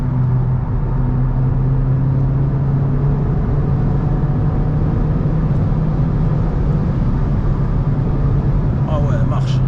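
A 2.3-litre Mazda 3 MPS at full throttle, its engine droning loud and steady from inside the cabin as it pulls hard for the whole stretch. A voice speaks near the end.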